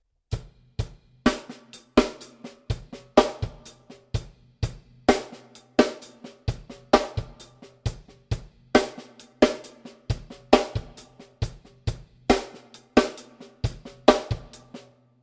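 Funk drum groove on a kit with a sharp snare crack on the upbeat of 2, played alone in a steady, tight repeating pattern of kick, snare and busy hi-hat, close and punchy without any talking.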